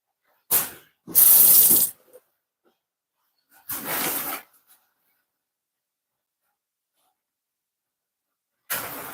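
Tap water runs into a kitchen sink in short bursts while fresh thyme is rinsed, three brief splashy flows near the mic followed by a final burst at the end, with quiet gaps between.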